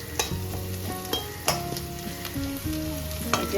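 Food, pieces being lightly browned before pumpkin is added, sizzles in a pan while a utensil stirs and scrapes it, leaving irregular metallic clinks and ringing over a steady close fry, with no talking.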